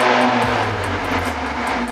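A Mercedes-Benz A45 AMG 4MATIC exhaust rumbling close by, with a brief rev that settles back into a steady, deep idle.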